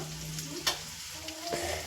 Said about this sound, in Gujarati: રાતની ખીચડી પડી છે ને એને વઘારે છે